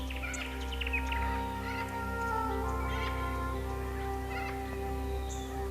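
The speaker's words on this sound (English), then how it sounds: "when you walk through the park, you'll soon hear the birds" Various bird calls and chirps scatter over a steady low hum in a regenerated forest at Castlemaine Diggings, Victoria, Australia, with occasional brighter trills rising and fading throughout.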